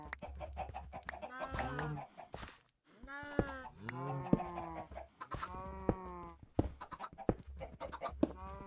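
Several chickens cluck and squawk in the video game Minecraft, a run of close, repeated bursts with short pauses between them.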